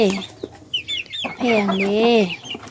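Chickens cluck close by in a series of short, bright calls, with a longer wavering note near the end; small chicks belonging to a household flock are among them.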